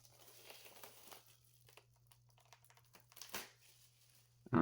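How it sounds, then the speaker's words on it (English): Cellophane wrapping is crinkled and torn off a Topps NBA holiday advent calendar box in scattered crackling bursts, close and fairly soft, with a brief louder rustle near the end. "The cellophane is off"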